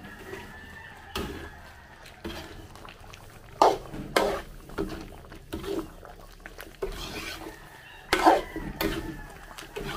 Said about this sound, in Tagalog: haluin lang po natin